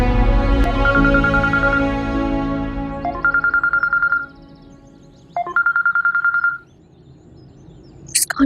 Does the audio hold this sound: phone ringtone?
yes